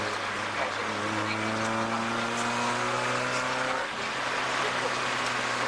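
Race car on a track during installation laps in a driver shootout, a loud steady engine drone from onboard with a rival car close behind, pitch holding then dipping briefly near the end.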